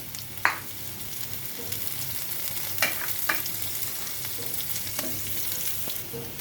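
Onion, chili powder, ginger-garlic paste, tamarind juice and panch phoron frying in a pan for potato curry (aloo dum), a continuous close sizzle broken by several sharp spoon clicks and scrapes while stirring, with no talking.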